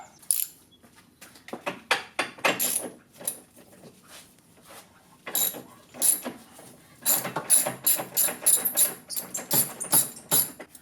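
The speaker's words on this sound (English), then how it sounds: "We also have to tighten up the starter generator belt." Ratcheting clicks and short metallic bursts as the starter generator belt is tightened on a 2002 EZGO TXT gas golf cart, close up and irregular, with brief pauses between runs of turning and no talking.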